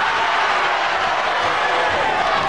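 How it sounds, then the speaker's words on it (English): The crowd at a wrestling semi-final bout keeps up a loud, steady roar of cheering and shouting voices that fills the whole moment without a break. "the crowd really loving this semi-final, this first semi-final"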